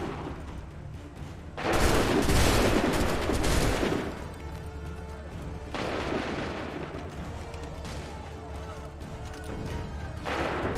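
Musket volleys fire in an Assassin's Creed III battle, with two dense bursts of crackling gunshots, the first louder and closer, each trailing into a rumbling wash of battle noise with shouted voices mixed in.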